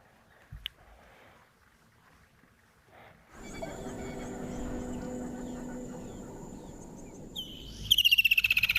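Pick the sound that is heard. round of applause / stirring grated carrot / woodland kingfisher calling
woodland kingfisher calling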